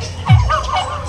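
A pet turkey gives a short, loud gobble up close, a quick rattling burst over quiet farmyard background.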